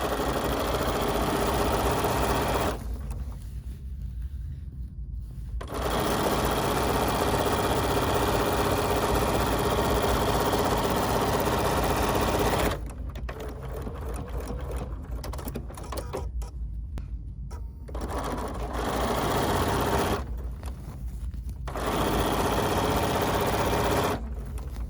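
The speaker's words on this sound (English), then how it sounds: "have to sew a few more strips together to get the size I need from these" A sewing machine running in long steady bursts as it stitches strips of water-soluble stabilizer together, a loud close whirring hum broken by short pauses, with no voices.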